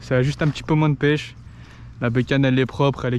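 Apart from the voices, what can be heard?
No everyday noises stand out.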